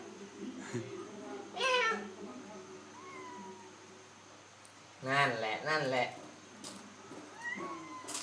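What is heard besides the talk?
cat meowing while eating seaweed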